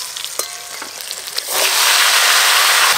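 Bottle gourd pieces dropped into a pan of fried turmeric-and-salt shrimp set off a sudden, loud, steady sizzle that swells after a few soft stirring clicks and continues unbroken to the end.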